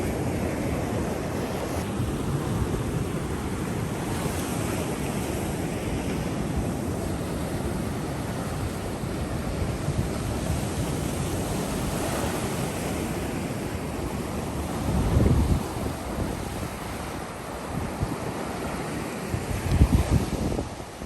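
Ocean waves break and wash up on an empty Florida beach near Fort Pickens under steady wind buffeting the microphone, with louder surges rolling in near the end.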